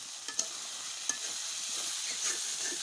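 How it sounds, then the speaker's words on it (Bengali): Food stir-fried dry in a pan without added water, a steady soft sizzle and crackle with occasional sharp clicks of a utensil scraping the pan, close and alone. "এটাতে এরকম ভাজা ভাজা করে রাখবো।"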